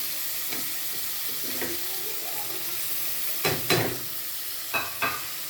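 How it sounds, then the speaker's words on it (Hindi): Tomatoes, onions and green chillies fry in a pan with a steady close sizzle throughout, broken by a few louder scrapes and clatters of stirring. "टमाटरों को बहुत ज़्यादा फ्राई नहीं करना है, हल्का हल्का फ्राई हो जाए तो फिर उसके अंदर प्याज और सब्ज़ मिर्च भी डाल देनी है।"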